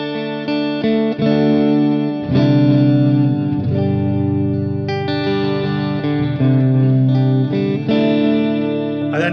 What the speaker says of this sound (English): So first off, I have the tape echo.